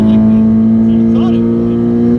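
A Honda race car pulls away from the starting line with a loud, steady engine drone holding a near-constant pitch, while a commentator talks over it.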